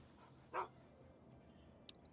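A dog in the video game Fallout: Tale of Two Wastelands gives a single short bark when petted, standing out against quiet background sound, followed later by a faint brief click.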